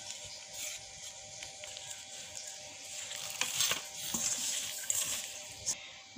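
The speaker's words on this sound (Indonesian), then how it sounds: "Kita ratakan, kita aduk sampai kalis." Pisang bolen dough being stirred and worked until smooth gives a steady, close, soft wet squishing and scraping texture with scattered small knocks and no talking.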